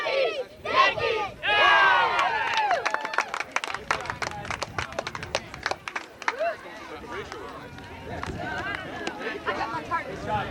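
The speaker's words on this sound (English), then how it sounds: "Let's give him a big cheer." A ballpark crowd at a Yankees championship awards ceremony roars and cheers, loud rhythmic chanting and shouts giving way to scattered clapping and babble, with voices near and far.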